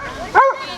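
At an outdoor community police event, a dog lets out a single short, sharp bark close by, with voices in the background.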